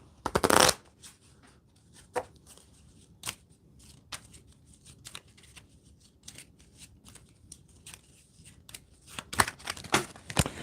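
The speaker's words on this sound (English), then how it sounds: "All right, I'm just shuffling up the 1917, so we're going to take 4 of those." A deck of game cards shuffled by hand: a loud riffle at the start, then scattered soft card taps and slides, and another flurry of riffles near the end, close by.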